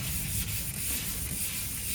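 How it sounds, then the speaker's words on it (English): 320-grit sandpaper rubbed over a shellac finish to flatten it, a close, steady, even scratching hiss that continues without a break. "And I've got 320 sandpaper here."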